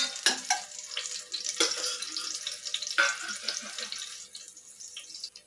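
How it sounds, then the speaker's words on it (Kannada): Onions frying in a spoonful of hot oil in a pressure cooker, with an uneven crackling sizzle and a few sharper pops, steady and fairly close, with no talking. "ನೋಡಿ, ಸ್ವಲ್ಪ ಈರುಳ್ಳಿ ಫ್ರೈ ಆಗಿದೆ."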